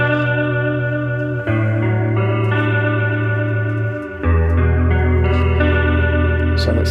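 An electric guitar runs through a Corona Chorus pedal on the TRI-Vibe toneprint, sustained chords ringing loud with a swirling, pulsing vibrato, changing chord twice, alone with no talking.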